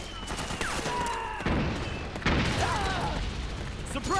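Gunfire bursts in Metal Gear Solid 4, loud and close, with sharp cracks near the start and again midway over a busy game soundtrack and effects.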